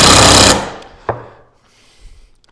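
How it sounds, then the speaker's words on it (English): A power tool drives deck screws into wood in a loud, steady whir that stops abruptly. A sharp knock follows, then faint rattling as the tool settles. "I'm going to take some of our deck screws and I'm going to give it a deck screw"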